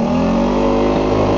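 A small generator engine on a home-made ultralight airship gondola runs close by at a steady, loud idle with an even mechanical drone and slight wavering.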